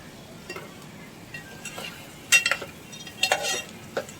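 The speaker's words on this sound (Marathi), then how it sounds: "हे आपले स्वच्छ धुतलेले मसूर आपण त्याच्यात घालायचे आणि छान तेलावरती परतून घ्यायचे" Washed lentils and potato pieces stirred into hot oil with onion masala in a pan, a faint low sizzle under a few sharp clinks and scrapes of a spoon against the pot.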